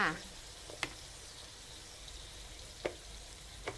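Minced pork chili paste is stir-fried in a pan, a faint low sizzle with a few brief knocks and scrapes of the spatula.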